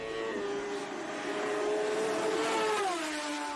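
A racing motorcycle screams past at the Southern 100 road race, its high-revving engine note sustained and loud, with a clear pitch drop near the end as it passes close by and away.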